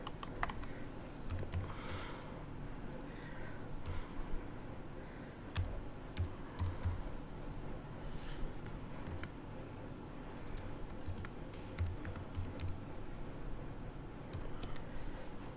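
Fingers typing an SQL query on a computer keyboard, irregular clicks and small bursts of keystrokes, close but quiet over steady background hiss.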